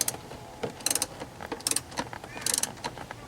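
Ratchet torquing up seat bolts on a GM/Chevy seat, heard as short bursts of close mechanical clicking separated by brief pauses.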